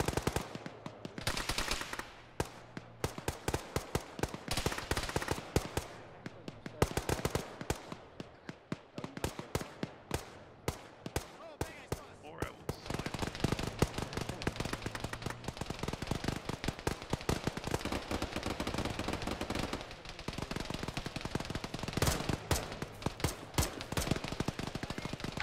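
Sustained gunfire from the military video game Arma: dense automatic bursts and single cracks crackle almost nonstop, loud and close, with brief lulls between volleys.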